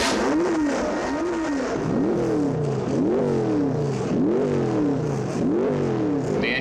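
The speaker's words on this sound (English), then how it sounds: "we've heard the sound of that special V8" A 2013 Formula 1 V8 racing engine revs repeatedly, rising and falling in a steady rhythm of about six loud, close up-and-down sweeps with no talk over it.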